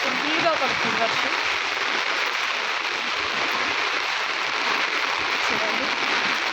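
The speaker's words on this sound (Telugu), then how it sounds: "చాలా ఘోరంగా విపరీతంగా ఫుల్గా పడుతుంది వర్షం" Heavy rain pours down in Hyderabad, a thick, steady hiss of downpour filling the whole scene, with a brief burst of talking near the start.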